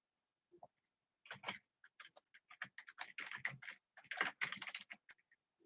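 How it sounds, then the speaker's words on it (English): Rapid, uneven keystrokes on a computer keyboard, close and fairly quiet, arriving in short bursts and flurries with brief pauses and no talking. "Yes, and I am typing that in too"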